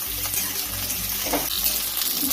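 Pieces of raw jackfruit, seasoned with a little turmeric, frying lightly in a pan, giving a steady close sizzle with occasional stirring scrapes and no voices.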